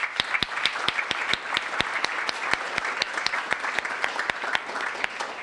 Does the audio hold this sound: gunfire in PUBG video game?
no